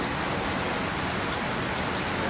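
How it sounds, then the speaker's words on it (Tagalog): Heavy typhoon rain pours in a dense, loud, unbroken hiss close by, with no voices over it. "kasi lakas ng ulan, may bagyo mga boss"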